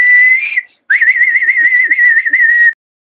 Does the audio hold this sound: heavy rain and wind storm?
no